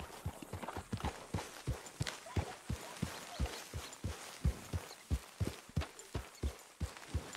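Horse hooves clip-clop at a steady riding rhythm while a horse is ridden out into the wilderness in Red Dead Redemption 2, fairly close and even, with no talk over them.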